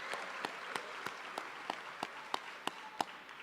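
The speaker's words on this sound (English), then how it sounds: "We want to give you a round of applause" At a conservatory graduation ceremony, evenly spaced, distinct claps sound for veterans, about three per second, fairly faint over a low background hum.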